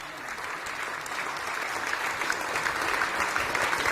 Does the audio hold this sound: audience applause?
yes